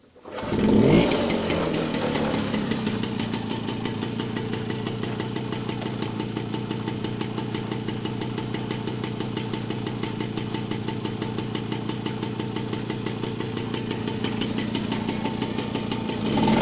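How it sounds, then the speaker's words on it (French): An MBK AV7 moped engine catches after a brief start attempt, then settles into a steady, loud idle with a fast even putter that holds for about fifteen seconds, alone without talk. "maintenant je vais vous montrer que la mobilette démarre"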